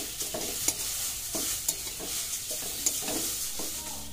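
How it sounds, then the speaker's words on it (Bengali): Carrots for carrot halwa frying and being stirred in a pan, a steady bright sizzle with repeated scraping strokes of the spoon at an irregular rhythm, close and alone. "আমি গাজর গুনা একটু লাল লাল করে ভাজা ভাজা করে নেব"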